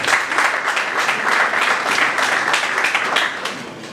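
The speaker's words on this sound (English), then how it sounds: "Please welcome him to the round of applause." An audience at a Nigerian power-sector panel event applauds with dense, steady clapping that swells and continues for several seconds before beginning to taper.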